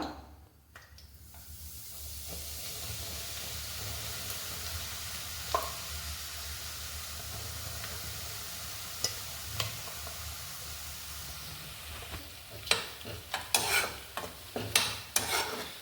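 Medicinal leaves frying in hot oil give a steady, fairly quiet sizzle and hiss. Sharper stirring clicks and scrapes come in toward the end.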